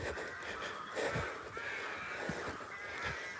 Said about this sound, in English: Listen to the noise above us, guys. This is the early morning wake-ups from some of these birds.